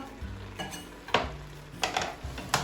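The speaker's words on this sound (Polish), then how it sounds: "Patelnię odkładam na zimny palnik, żeby się nie przypaliła." Kitchen clatter while cooking sweet-and-sour chicken: a few sharp metallic clanks and scrapes of a pan and utensils over a faint sizzle, close and irregular.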